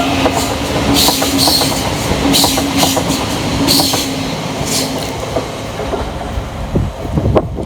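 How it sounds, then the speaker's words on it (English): Elizabeth Line train 345018 pulling out of a station, loud and close, with rhythmic wheel clatter over the rails, brief high squeals and a steady hum that gradually thins as it moves away. "Departing in the opposite direction will be the 10:57 Elizabeth Line service from London Paddington through to Shenfield, and that is 345018."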